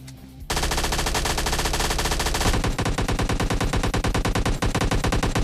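Sustained automatic AKM fire in a shooter video game, a loud continuous rattle of rapid shots after a brief quiet start, with no speech.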